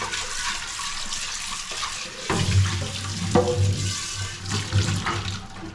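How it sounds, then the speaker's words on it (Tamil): Water runs from a tap with splashing and clinking as dishes are rinsed, a low hum underneath and a few louder knocks partway through. "இது பாத்திரம் கழுவுறது இருக்குது"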